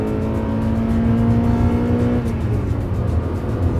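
A Honda Prelude 2.2 VTEC VTi with 200 hp pulls hard at full throttle, its engine droning loud and steady from inside the car with a rising whine that shifts partway through.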